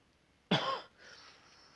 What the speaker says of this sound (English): a wheezy kind of cough the last few days